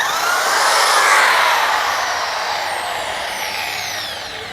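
A DongCheng DZJ02-13 wall drill bores with a 13 mm bit, a loud continuous high whine that grinds steadily and eases slightly toward the end, close and alone.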